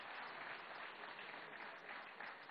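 Audience applause after a live debate, a thick, even roar of many clapping hands heard at a distance, steady and unbroken throughout with no talking over it.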